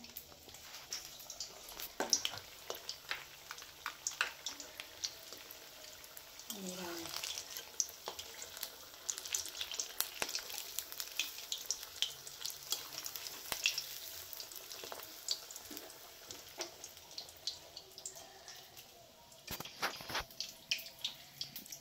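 Chilli fritters (mirchi bara) frying in hot oil, a steady close sizzle and crackle running throughout with scattered sharp pops, a few louder bursts, and faint background activity.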